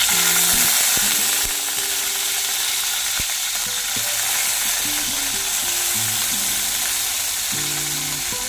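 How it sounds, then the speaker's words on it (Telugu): Green chillies fry in oil in a pan for chutney, giving a steady broad sizzle with scattered clicks and clatter from stirring utensils, and no voices. "ఇప్పుడు ఫ్రై చేసుకుందాం. ఫస్ట్ పచ్చిమిర్చి వేసుకోవాలి."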